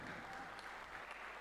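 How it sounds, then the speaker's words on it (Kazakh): Guests at a wedding celebration applaud, a soft, even wash of many hands clapping at a distance, steady for the whole moment. "Қол шапалақ ұрып қоямыз"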